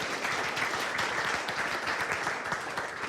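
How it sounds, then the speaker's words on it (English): A panel discussion audience claps steadily and densely, filling the whole short stretch with even, close applause from many hands and no break. "Applause"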